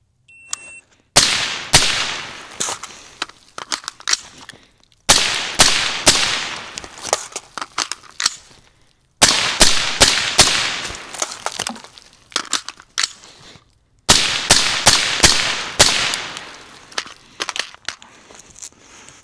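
Gunshots fired at a small target come in four strings of rapid, sharp, loud cracks, each string a quick volley of several shots followed by a short pause.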